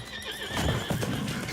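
Horses neigh loudly and close while their hooves clop in an uneven rhythm, with the whinnies and hoofbeats overlapping across a short, busy burst.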